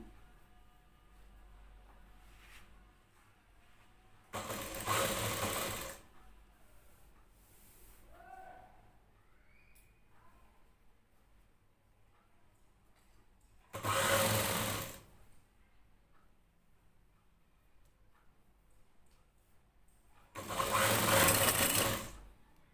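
A sewing machine stitching a plain blouse runs in three short, loud whirring bursts of about a second and a half each, separated by long quiet pauses with faint handling noises.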